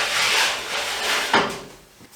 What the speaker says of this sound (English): So I can expand it from my 4 foot 9 inch length just simply by pulling these arms out.